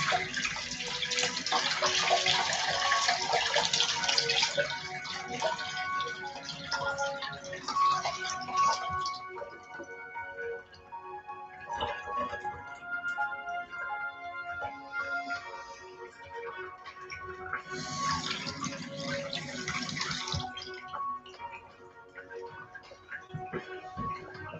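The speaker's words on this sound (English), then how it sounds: "I'm gonna wash my hand now." Running tap water pouring steadily while hands are washed in a home kitchen, a continuous close splashing that swells, thins out in the middle, then surges again briefly before quieting.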